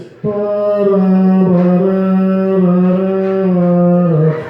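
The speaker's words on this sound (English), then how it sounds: "when her alarm go off, it sounds like this" A loud, steady phone alarm melody, the theme from MASH, plays alone, held tones sliding slightly in pitch, continuous for several seconds before cutting off.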